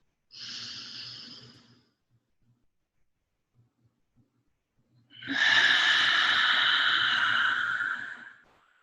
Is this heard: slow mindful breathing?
yes